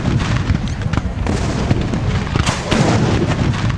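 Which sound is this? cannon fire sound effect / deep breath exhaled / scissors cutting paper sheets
cannon fire sound effect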